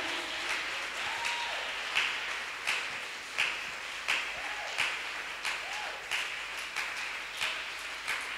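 Congregation at an Easter convention church service applauding, a steady wash of many hands clapping with rhythmic louder accents, some sung or called tones faintly beneath.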